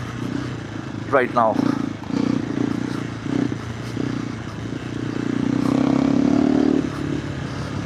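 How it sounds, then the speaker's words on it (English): KTM 390 Adventure R motorcycle fitted with a Norifumi Whoops exhaust, riding a trail with a steady, moderately loud engine drone that swells near the end, while a rider talks briefly over it. "the exhaust is sounding awesome"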